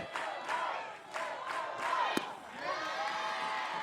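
Crowd at a college softball game between Florida State and UCF, a broad roar of cheering and yelling with rhythmic surges, heard at a moderate distance under a commentator's voice, with one sharp crack partway through.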